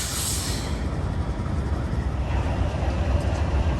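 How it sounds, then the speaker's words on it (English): A heavy BNSF freight train rumbles past close by, a steady roar of rolling wheels and rattling cars with no pauses. "this is that big freight train"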